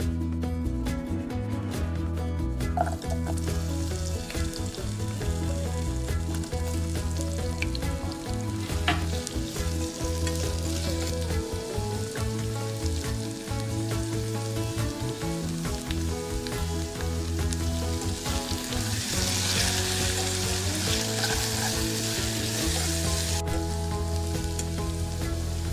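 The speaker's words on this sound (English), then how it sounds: "cooking them in coconut oil with a touch of salt, chili powder, and pepper until they turn soft and tender" Potato pieces frying in coconut oil with salt, chili powder and pepper: continuous dense sizzling and crackle, close and steady, with occasional stirring scrapes and no talking.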